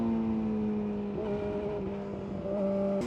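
A motorcycle fitted with an Ohlins steering damper runs on a track, its engine holding a steady, fairly faint drone with a slight pitch shift partway through and no talking.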